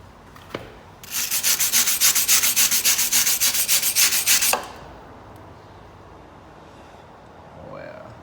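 Stubborn leaf spring bolts on a Chevy K20 squarebody truck being cut, a loud rhythmic rasping saw stroke repeated steadily for about three and a half seconds, then quiet workshop ambience.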